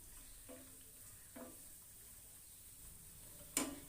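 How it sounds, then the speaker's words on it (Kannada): Almonds and cashews fry in hot ghee with a faint, quiet sizzle, broken by two soft stirring scrapes and a sharp clink near the end. "ಇವಾಗ ತುಪ್ಪ ಕಾದಿದೆ, ಬಾದಾಮ್ ಹಾಕ್ಕೋತಾ ಇದ್ದೀನಿ. ಇವಾಗ ಗೋಡಂಬಿ ಹಾಕ್ಕೋತಾ ಇದ್ದೀನಿ."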